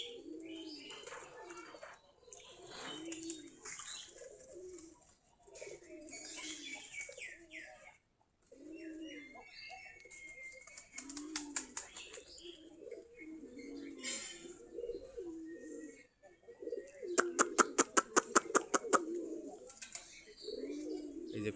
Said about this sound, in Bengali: আমাদের এখন প্রায় 40 থেকে 45 জোড়া কবুতর আছে, সবগুলাই দেশি গিরিবাজ কবুতর।